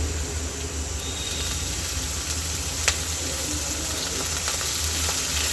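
Chopped chivli greens hit a pan with onion and turmeric and stir-fry, giving a soft continuous sizzle with faint scraping and a brief clink partway through, no voices.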